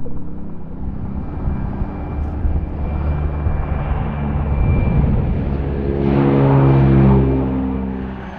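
Steady broad roar of a Transall military transport airplane, sustained and fairly loud, swelling slightly toward the end with no voices.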